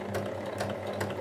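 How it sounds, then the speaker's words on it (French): A sewing machine runs steadily as it stitches the hem of a bag pocket, a close, continuous mechanical whir with a quick repeating needle rhythm. "Donc on va commencer par piquer l'ourlet, le côté avec l'ourlet."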